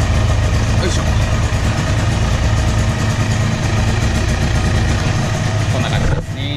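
A Yamaha TZR125 two-stroke motorcycle with YPVS runs at a steady, loud idle close by as the rider pulls the clutch and clicks it into gear. The engine note dips briefly near the end.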